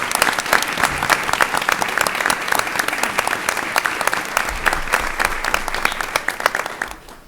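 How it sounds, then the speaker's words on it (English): A school board meeting audience gives a big round of applause for the Teachers of the Year, steady dense clapping throughout with individual claps standing out, tapering at the very end. "let's just give them all one big round of applause one more time, please"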